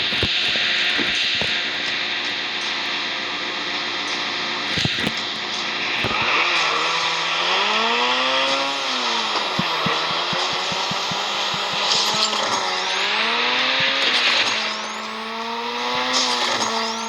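A race car engine in the drag racing game Race Max Pro revs loudly and continuously, climbing through gear shifts with rising and falling pitch sweeps and occasional tire noise, with no talking.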